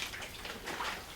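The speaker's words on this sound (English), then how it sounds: "you just rinse off all that soapy water" Hose water sprays and splashes over a soapy mountain bike, a short, soft, hissing wash of rinsing water.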